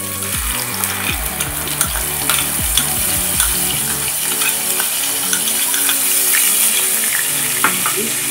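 A paste of tomato, green chilies, ginger and cumin fries loudly in a pan, with a dense crackling sizzle and repeated stirring scrapes close by and no talking.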